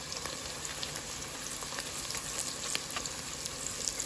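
Onions frying and caramelizing in a pan on a stove at medium heat, a soft, even sizzle and hiss running steadily throughout without pauses or voices.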